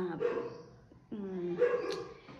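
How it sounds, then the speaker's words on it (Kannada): A dog barks near a house, two nearby yapping barks about a second apart, fairly faint and alone. "ಎಲ್ಲ ಮನೆ ಹತ್ರ ಒಂದು ನಾಯಿ ಬಡ್ಕೊತಾ ಇರುತ್ತೆ"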